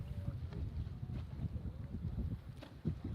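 Wind buffets the microphone aboard a boat out on the ocean on a breezy day, a steady low rumble with gusty swells and faint water wash, no voices.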